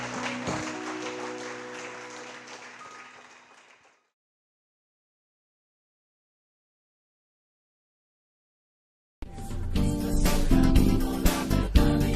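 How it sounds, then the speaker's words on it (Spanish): A church congregation applauding during a Spanish-language worship service, a broad wash of clapping that fades out, gives way to silence, then returns loud and full. "Dale un aplauso al Señor."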